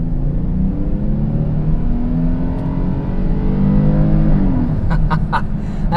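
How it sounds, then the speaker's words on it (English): A 2020 Hyundai Palisade SUV accelerates hard from inside the cabin, a steady loud engine drone with rising tones, and a few clicks near the end. "Now we're going to give her the beans here just to see how that feels."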